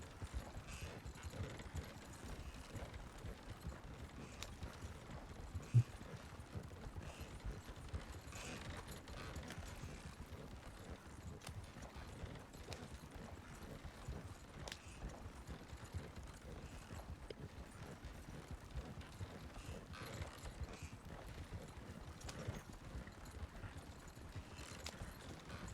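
Horse hooves clip-clop steadily through a Western-style open world game, a soft continuous rhythm of steps at moderate distance with faint mechanical clicks mixed in, and no talking.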